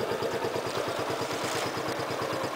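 A grey matte Dafra Apache RTR 150cc motorcycle sits idling nearby, its single-cylinder engine throbbing in a steady, even pulse throughout.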